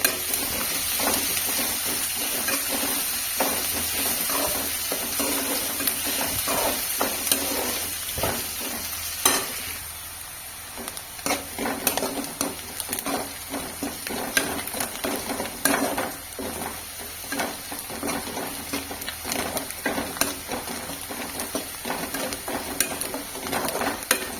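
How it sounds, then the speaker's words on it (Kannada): Onions and green chillies fry steadily in a pan, a continuous close sizzle broken by frequent scraping stirs and light clinks of a utensil against metal, with no talking. "ಹಸಿಮೆಣಸನ್ನು ಸೇರಿಸ್ಕೊಂಡು ಫ್ರೈ ಮಾಡ್ಕೊಳ್ತೀವಿ ಈರುಳ್ಳಿಯನ್ನು ಚೆನ್ನಾಗಿ ಫ್ರೈ ಮಾಡ್ಕೊಳ್ಳಿ"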